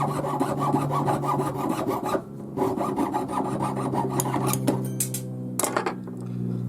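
A saw cuts through metal for a bangle held in a hardened holding jig, making steady, rhythmic rasping strokes up close with a ringing metallic tone and brief pauses between runs of strokes.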